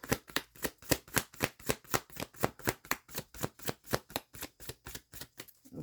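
Tarot cards shuffled for a reading, the deck riffling in a quick, steady run of crisp slaps and flutters, about three per second, close and clear with no talking.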